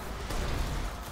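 A grenade in the video game Destiny goes off in a single heavy, close blast that rumbles briefly and fills the whole moment.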